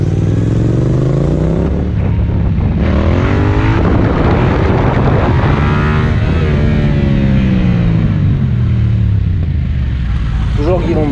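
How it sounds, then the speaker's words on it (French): Yamaha MT-07 or MT-09 motorcycle doing a wheelie, its engine revving hard and rising and falling in pitch as the throttle opens, loud and close for the whole stretch, with a person's voice over it. "On va faire un dernier wheeling là encore."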